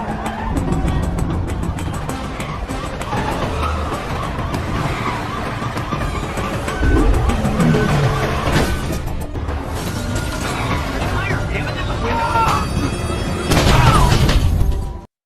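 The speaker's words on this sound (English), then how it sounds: "The chase between them ensues, ending in a collision, that disables Colt's car." A car chase ends in a collision that disables the pursuing car, with roaring engines, skidding and crashing impacts, loud and dense throughout and swelling into a final burst of smashing noise.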